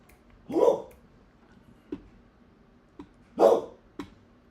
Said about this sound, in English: my dog's going nuts about the people back outside